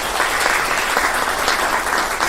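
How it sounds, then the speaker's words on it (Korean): Audience applause at a Catholic hospital director inauguration ceremony, a steady dense wash of many hands clapping throughout, fairly loud and with no voices over it. "축하의 박수를 다시 한번 부탁드립니다."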